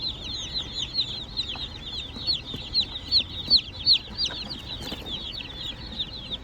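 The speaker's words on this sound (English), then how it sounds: "Just went to the post office and we got a new box of little peepers." Newly delivered meat-bird chicks in a box on a farm, a dense, continuous chorus of high, rapid peeping from many birds close by, with no talking.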